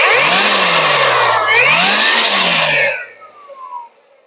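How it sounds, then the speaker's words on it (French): A small, lightweight Mawiron leaf blower motor runs loud and close with a high whining drone that dips and rises in pitch, then cuts off, leaving a fading whine that winds down. "Le moteur de ce souffleur-là, c'est exceptionnel."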